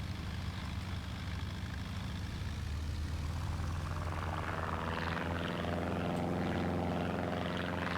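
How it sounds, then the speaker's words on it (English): A WW1 fighter's propeller engine taxiing in the FSX flight simulator, a steady droning engine hum that grows slightly louder and rougher toward the end, with no talking. "now that we've got our engine restarted, let's taxi back out"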